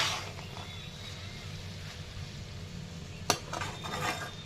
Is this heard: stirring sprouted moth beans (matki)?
yes